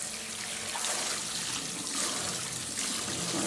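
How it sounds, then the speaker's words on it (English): Cold tap water runs steadily into a colander of Irish sea moss in a kitchen sink, a continuous close splashing hiss with no pauses and no talking. "A colander in the sink, let's go ahead and get our sea moss in, and we're going to give this a good rinse."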